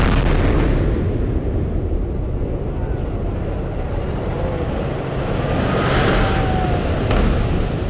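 A building implosion demolition sends a continuous heavy rumble across the whole span, a dense, roaring collapse heard from a distance, swelling slightly toward the end with no voices over it.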